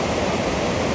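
Minnehaha Falls in Minnesota pours with a constant, broadband rushing roar, close and steady, with no voices over it.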